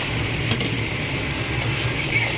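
Beaten eggs being stirred and sautéed in a curry with a little hot water. A soft, continuous sizzle sits under faint, occasional stirring clicks, close and steady throughout.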